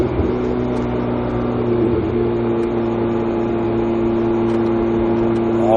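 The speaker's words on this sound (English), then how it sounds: "Let's go drive a Ferrari." A Ferrari 488 GTB engine hums steadily and loud at low revs on a track, with a constant close-up drone that rises slightly near the end.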